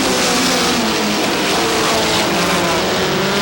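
Race cars roar hard at Star Speedway in New Hampshire, a Volkswagen among them, with loud, sustained engine noise as they accelerate through the turn, close and continuous with no talk.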